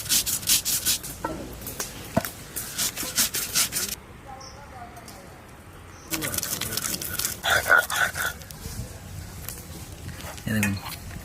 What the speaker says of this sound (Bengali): পোস্ত, শুকনো লঙ্কা, গোটা রসুন আর কাঁচা লঙ্কা, এটাকে বেটে দিই